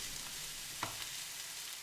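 Vegetables fry on a stove at its highest heat, a soft, constant sizzle with one brief utensil knock partway through, faint and without talk.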